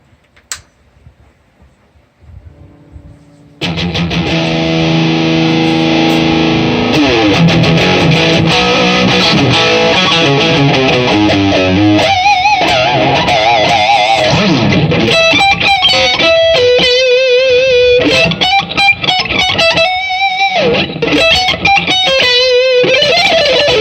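A loud distorted electric guitar through a Hughes & Kettner amp kicks in after a faint opening, riffing and bending notes continuously for the rest of the passage, with no voices.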